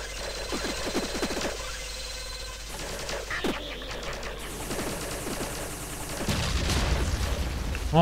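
Rapid bursts of small retro shots fired in the platformer I Wanna Be the Boshy, clattering repeatedly over busy game sounds, with a heavier rumbling blast near the end.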